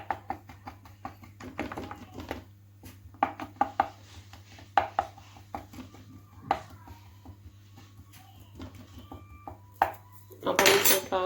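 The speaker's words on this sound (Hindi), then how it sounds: "अब हम एक कांटा लेंगे, उसकी मदद से इस तरह बीच में सुराख कर लें" A metal fork pokes holes in rolled naan dough in a home kitchen with a series of sharp light taps and clinks, irregular and close, ending in a brief louder clatter over a low steady hum.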